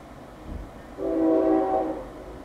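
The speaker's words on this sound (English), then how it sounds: "I hear a train." A train sounds its horn from some distance, a sustained harmonic blast rising and holding for about a second before fading slightly, over a low steady rumble.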